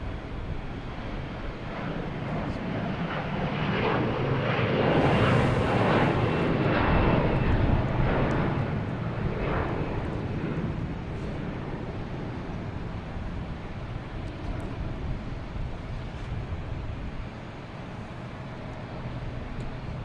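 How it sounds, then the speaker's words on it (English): An airliner takes off at Boston Logan Airport, a broad, distant roar of jet engines that swells to a peak and slowly fades, with some wind rumble across the microphone. "We'll stick with the takeoff here, get some good sound."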